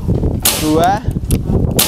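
Two sharp PCP air rifle shots crack about a second apart, close and loud, with a short voiced sound between them.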